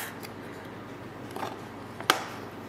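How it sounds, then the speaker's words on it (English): A knife cuts through baked gingerbread biscotti loaves in a quiet kitchen, giving a soft scrape and then one sharp, crisp crack near the end. "I'm going to cut my biscotti loaves in half and then I'm going to cut at an angle."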